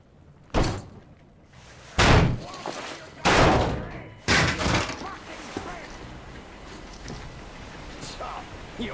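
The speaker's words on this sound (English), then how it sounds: "The door's giving. Let's give it a shove, Artyom." In the video game Metro Exodus, a heavy door is shoved open in a series of loud thuds and bangs, four strong impacts spaced about a second apart followed by fainter scraping and rattling.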